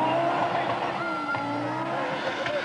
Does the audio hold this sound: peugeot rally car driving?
yes